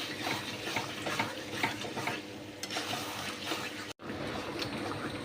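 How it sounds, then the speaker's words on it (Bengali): Marinated meat fries in a pan over a low flame while a spoon stirs it, with a steady, close sizzle and scraping strokes that continue throughout. "আমি এটাকে আরও খুব ভালো করে কষাবো, লো ফ্লেমে দিয়ে আস্তে আস্তে করে নাড়াবো।"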